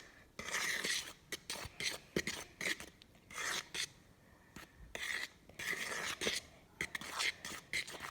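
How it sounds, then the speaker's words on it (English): A fork stirring dry pie crust ingredients with sugar in a bowl, rhythmic scraping bursts repeating steadily, close and fairly clear with short pauses between strokes. "Just take one of your forks and stir it until it is evenly combined."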